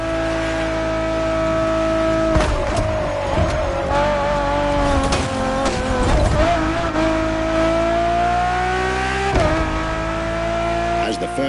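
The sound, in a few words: Ferrari Enzo engine in The Crew video game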